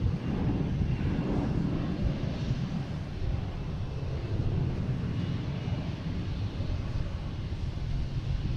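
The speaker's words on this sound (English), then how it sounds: "And we have American Airlines. An A321 came from Dallas Fort Worth." An American Airlines Airbus A321 from Dallas Fort Worth rumbles past at Boston Logan airport, a loud, steady jet roar mixed with wind buffeting the microphone, holding evenly throughout.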